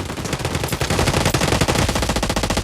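Rapid automatic gunfire in the video game Delta Force Mobile rattles in fast continuous bursts, loud and close, with no voices over it.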